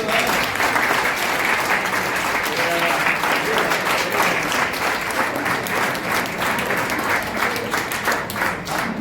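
Loud sustained applause from an audience at a church Sunday school teachers' training program, with dense continuous clapping from many people that eases slightly toward the end.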